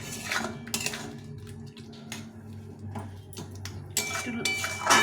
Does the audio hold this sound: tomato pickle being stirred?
yes